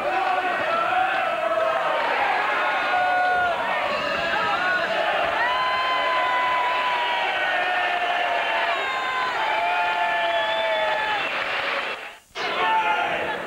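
Boxing match crowd at the Colin Dunne vs Phillip Holiday fight, a loud, steady roar of cheering and shouting voices sustained throughout with a shouted voice rising above, briefly dropping out near the end.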